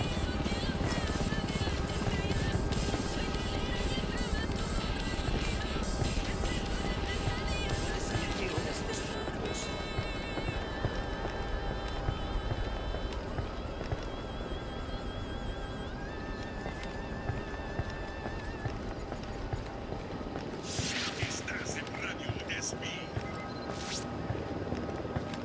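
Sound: approaching helicopter in Ghost Recon Wildlands video game

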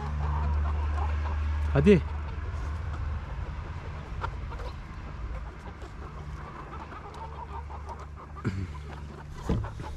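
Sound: hens clucking

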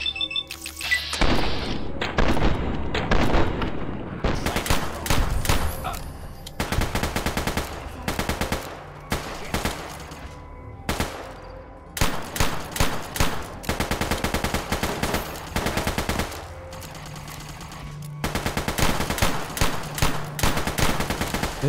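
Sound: gunfire in Fallout New Vegas video game

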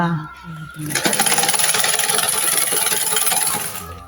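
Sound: old sewing machine running on electric motor

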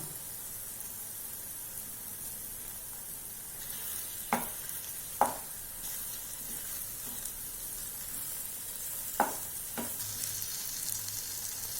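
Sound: egg masala frying and being stirred in pan

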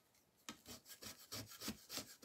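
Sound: scraper scraping off glue

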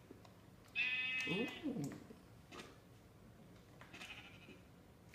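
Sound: sheep bleating in the video game Minecraft

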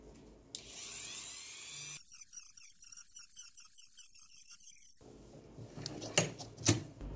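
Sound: Dremel rotary tool cutting PCB links

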